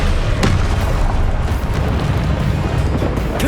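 A Confringo fire spell explodes in Hogwarts Legacy with a loud, deep booming blast, followed by a rumbling roar that stays dense and heavy for several seconds, with a sharper burst early on.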